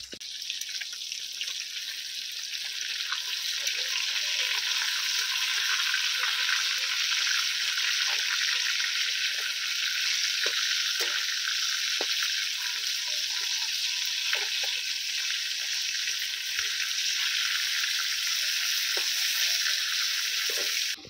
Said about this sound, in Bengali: মাছগুলো এবারে আমি এক পিঠ ভাজা হয়ে যাক তারপরে উল্টি পাল্টি ভালো করে লাল লাল করে ভেজে নেব